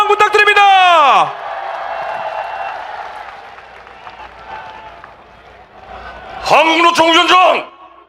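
A crowd at a final election campaign rally in Yeouido, Seoul applauds with cheers, a broad sustained roar of clapping between loud amplified speech at the start and end.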